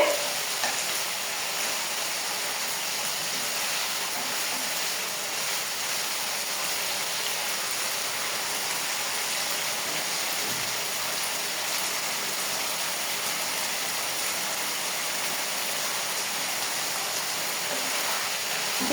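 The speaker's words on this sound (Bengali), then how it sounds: "মাংস পেঁয়াজ আদা রসুন এবং দারচিনি এলাচ তেজপাতা দিয়ে এটাকে খুব সুন্দরভাবে তেলে কষে নেওয়া হচ্ছে" Mutton fries in oil with onion, ginger, garlic, cinnamon, cardamom and bay leaf, giving a continuous, even sizzle like light rain, moderately quiet and steady throughout.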